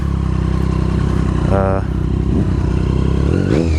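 Triumph Street Triple naked motorcycle fitted with a Racefit Growler straight pipe exhaust, riding along with a loud, steady engine drone and a brief rising rev near the end, with people talking over it.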